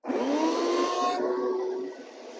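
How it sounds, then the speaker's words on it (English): A shop vac sucks up loose material while a new layout room is being prepped, a loud steady motor roar with a whining pitch that slides and then drops away near the end. "I want to go back and use the shop vac to get any loose material that might still be hiding down in"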